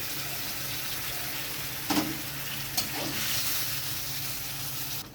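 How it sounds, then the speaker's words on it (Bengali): Vegetables and spices being stirred with a spatula in a pan for a Bengali potato, ridge gourd and katla fish curry, a steady sizzle with a couple of brief scraping knocks, no voices. "মশলাগুলো দিয়ে খুন্তি দিয়ে আমি একটু নাড়াচাড়া করে নিয়েছি সবজিগুলো।"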